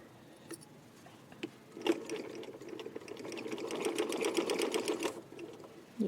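A domestic sewing machine stitches along the seam of a printed fabric yoke, its motor whirring in a steady run that quickens and grows louder toward the end, with a few light clicks at the start.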